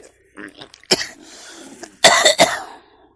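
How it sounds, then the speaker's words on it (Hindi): Several harsh coughs close to the mic, a few short ones early, then two loud bursts near the end, with throaty breathing between. "खांसी आ जाती गई"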